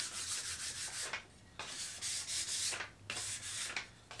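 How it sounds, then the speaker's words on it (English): Hand sanding a wooden keyboard wrist rest lightly between finish coats: steady, close back-and-forth scratchy strokes in a regular rhythm with brief pauses, no talk. "let's give this a little bit of a sand before we move on to the next coat"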